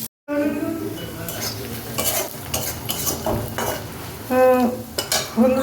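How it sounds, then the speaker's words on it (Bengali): Onions frying in a pan, a close sizzle with frequent spatula scraping and metallic clinks of utensils against the pan, heard on its own without talk. "পেঁয়াজটা লাল লাল করে ভাজা হয়ে গেছে"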